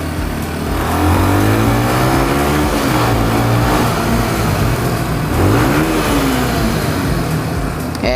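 A big-displacement motorcycle engine revs hard and loud at close range, its pitch climbing and falling across several throttle blips and holding a steady roar throughout, with no voices.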